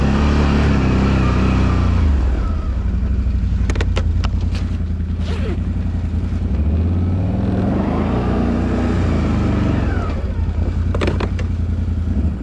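A Can-Am Outlander ATV fitted with a CVTech variator engine-brakes on a hill as the throttle is released, its engine droning loud and steady throughout with occasional clattering mechanical knocks.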